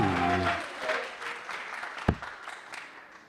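An arena crowd at a darts finals breaks into applause, a broad wash of clapping that fades away over a few seconds. A single sharp thud stands out near the end.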